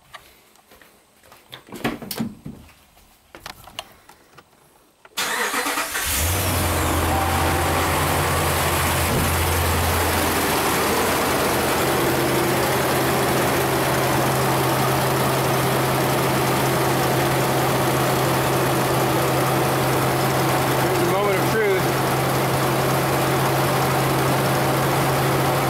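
A HEMI V8 car engine cranks and fires after a few quiet seconds of shuffling, then settles into a steady, loud, close idle that runs unbroken to the end.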